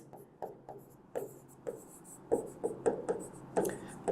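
Pen scratching across paper as someone writes out grammar notes, a run of short strokes and taps in an irregular rhythm, close and fairly quiet with no talk over it.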